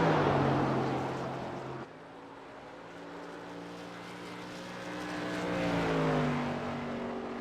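SK Modified race car engines lapping 5 Flags Speedway in iRacing, a droning engine tone that rises and falls as cars pass, fading briefly then swelling again, with no talk.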